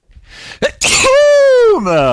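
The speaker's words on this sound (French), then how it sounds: "Attention, je vais éternuer." A close, loud sneeze: a sharp inhaled build-up, an explosive burst, then a drawn-out voiced tail.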